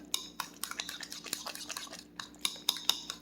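Carnivore cornbread muffin batter made with crushed pork rind is mixed in a bowl with a utensil, giving repeated close scraping and clinking strokes in an uneven rhythm, with no talking.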